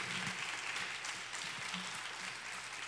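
A church congregation at a Portuguese-language service in Orlando applauds steadily but quietly, the clapping heard from some distance.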